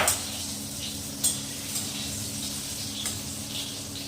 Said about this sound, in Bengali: তো এইরকম এখানে পটল ভাজা হচ্ছে